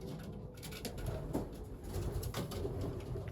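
Young racing pigeons coo softly inside a loft, with low, repeated burbling calls and faint fluttering and shuffling nearby.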